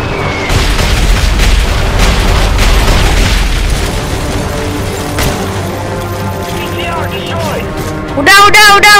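A BTR armored vehicle blows up in Call of Duty: Modern Warfare 3 with a heavy, rumbling boom under loud game noise. Chaotic battle sounds follow, then a brief electronic tone near the end.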